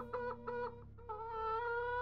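A rooster in the horror game Hand Simulator Horror gives a few short, tonal clucks and then a longer drawn-out call, clear and fairly quiet against a low background hum.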